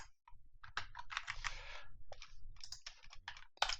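Rapid typing on a computer keyboard while writing C# code, dense bursts of close key clicks in uneven runs with brief pauses between words, crisp and fairly loud, with no talking.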